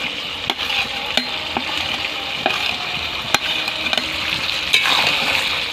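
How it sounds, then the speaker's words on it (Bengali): Half-cooked chicken kosha sizzles loudly in a pan after ground cashew paste goes in, with a continuous frying hiss broken by sharp spatula clicks and scrapes as it is stirred. "এখন আমি বেটে নেওয়া কাজুটা দিয়ে দেবো।"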